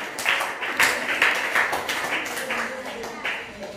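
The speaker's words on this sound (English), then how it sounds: "Give a big round of applause to her." A classroom of students applauds a classmate's performance with a short burst of brisk, uneven clapping, close and fairly loud, with voices mixed in.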